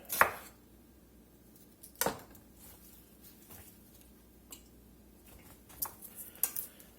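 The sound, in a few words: rough chopping half a white onion with a knife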